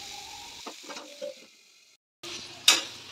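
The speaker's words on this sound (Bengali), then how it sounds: "আর এইদিকে উচ্ছে আলুটা ভাজা বসিয়ে দিলাম, একটু নুন আর একটু হলুদ দিয়ে দিচ্ছি।" Bitter gourd and potato pieces frying with salt and turmeric in a home kitchen pan, with soft sizzling, a few stirring scrapes and a sharp clatter near the end.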